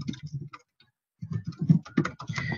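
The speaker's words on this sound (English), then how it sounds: "We then type in the email address of the person that we want to share the design with." Someone types an email address on a computer keyboard: quick bursts of close, light key clicks with a short pause partway through.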